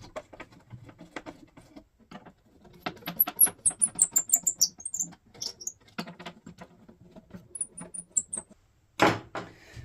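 Small screws are worked out of a WW2-era gramophone motor board, giving scattered light clicks, squeaks and metallic scratches in uneven bursts, close and alone without speech.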